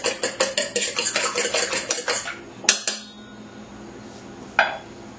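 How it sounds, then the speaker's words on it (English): A utensil beats three eggs with salt in a bowl, giving a quick run of rhythmic clinking strokes for about two seconds, then a sharp single clink and a later knock, close and alone. "And then I stir it again."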